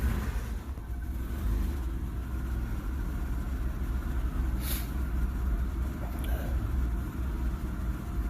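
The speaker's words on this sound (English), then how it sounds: "Let me rev it up, see if that changes." A 1994 Isuzu Rodeo engine with an intermittent surging fault, running steadily and loud and close with a continuous low rumble that swells slightly as it is revved, with no voices.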